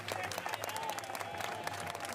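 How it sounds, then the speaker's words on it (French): A crowd applauds firefighters marching in a 14 July parade, dense clapping heard at a distance, steady and fairly faint throughout. "Les sapeurs-pompiers sont sans doute les plus applaudis."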